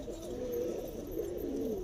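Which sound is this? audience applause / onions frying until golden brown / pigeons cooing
pigeons cooing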